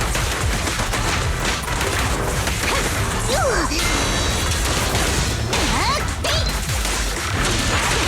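Gunfire and impact bursts from combat against a monster in the video game Zenless Zone Zero, dense and loud throughout, with whooshes and hits layered over continuous game sound effects.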